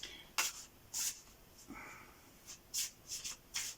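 Tarot cards being shuffled gently by hand, a series of soft papery riffles and rubs in irregular bursts, close and quiet, with no talking.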